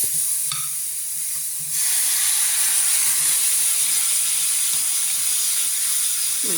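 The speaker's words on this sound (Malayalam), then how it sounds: "ഞാൻ തിളച്ച വെള്ളമാണ് ഒഴിക്കുന്നത്." Boiling water poured into a hot pan of mango chutney with chili powder, salt and sugar; a close, loud hissing steam surge rises and holds steady after a short quieter start.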